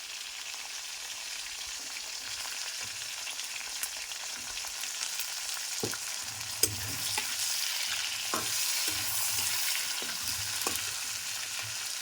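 Green chilies drop one by one into hot oil alongside frying hilsa fish heads, giving a steady close sizzle with scattered pops and crackles that grow busier as more chilies go in.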